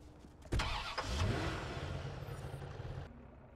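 A car engine in the video game Watch Dogs starts with a sudden burst, then runs at a steady mid-level hum that rises slightly before settling and cutting off near the end.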